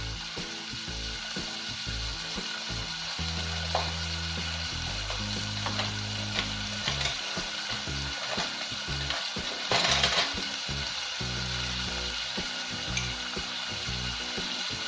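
Spices with a pinch of turmeric frying in a pan for street-style masala dosa, a steady loud sizzle throughout with occasional stirring scrapes, close up and with no talk.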